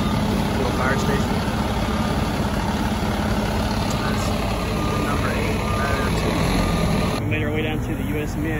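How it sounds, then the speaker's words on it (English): A fire truck backs up at a fire station in Philadelphia, its reversing beeps repeating steadily over a loud, rumbling idling engine close by, with some voices mixed in. "Never thought you'd have to wait for a fire truck to back up, right?"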